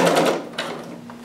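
A sewing machine runs a short burst of stitching and back stitching along a garment lining, a steady close mechanical whir that pauses briefly and resumes, with no talking.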